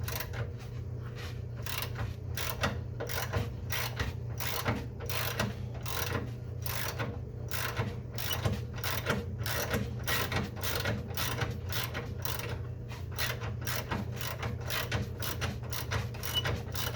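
A socket wrench ratchets steadily as it tightens a shock bolt on a Jeep YJ, giving a fast, even run of close, loud clicks over a low steady hum, with no talk.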